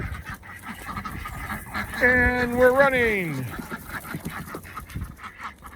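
A loud, drawn-out goose honk glides downward in pitch, with duck quacking and farmyard noise around it and a person speaking briefly nearby.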